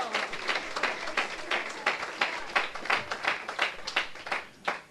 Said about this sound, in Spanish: denle un aplauso al Señor con todo su corazón